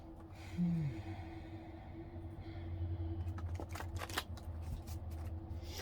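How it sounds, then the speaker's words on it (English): A pink deck of tarot-style cards is shuffled by hand, soft riffling and quick flicking bursts in the second half, faint and close over a low steady hum, with a brief squeak early on. "we're going to pull some from my pink deck. I'm going to shuffle them for a minute."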